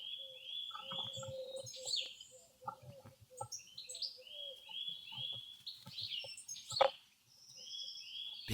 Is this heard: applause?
no